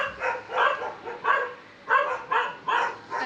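A dog barks repeatedly in short, evenly spaced bursts, about seven barks at moderate loudness, heard alone without speech.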